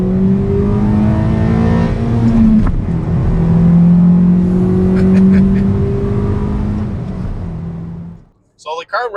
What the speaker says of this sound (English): So the car revs a lot higher.